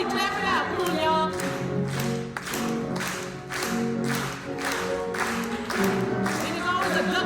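Church audience clapping along to a gospel song, a steady rhythmic run of roughly a dozen loud claps in time, mixed with singing voices and music throughout.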